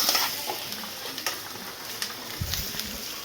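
Pasta cooking in a pan makes a continuous close sizzle, with a few soft stirring scrapes and clicks over it and no one speaking.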